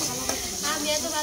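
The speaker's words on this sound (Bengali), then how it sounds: "এটা কি রান্না করবে মা? আলু ভাজি।" Potato bhaji frying in a pan, a brief steady close sizzle with a light scrape of stirring, no clear talk over it.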